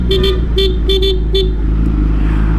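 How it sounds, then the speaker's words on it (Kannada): A vehicle horn on a Mahindra Thar gives a loud string of short toots, some in quick pairs, over a steady idling engine rumble, then falls quiet. "ಚೆನ್ನಾಗೇ ಇದೆ ಹಾರನ್ನು"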